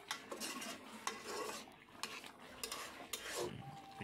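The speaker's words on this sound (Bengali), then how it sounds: "একটু নাড়াচাড়া করে আবার ঢেকে দিব।" Packaged stick noodles being stirred in a pot of water that has just come to a boil, giving close, irregular scraping and clinking strokes with soft bubbling and sizzle beneath.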